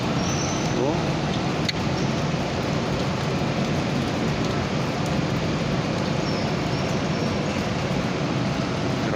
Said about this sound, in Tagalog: grabing ulan mga katriping